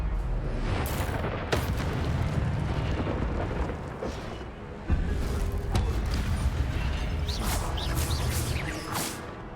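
Incendio fire spell cast in the video game Hogwarts Legacy, a roaring burst of flame with whooshing rushes and deep rumbling booms, loud and continuous with swells and sharp bursts.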